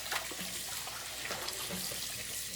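Tap water running into a sink while bok choy is washed and soaked, a steady close splashing flow with small sloshes and clinks of handling underneath.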